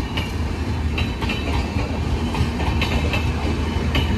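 An all-AC Lokmanya Tilak–Madgaon Express with double-decker coaches running along the track, a loud steady rumble with rhythmic clickety-clack wheel beats recurring through the clip, heard alone.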